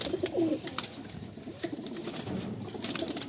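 Slender pigeons in a breeder's loft coo softly close by, making low gurgling calls over faint fluttering and shuffling.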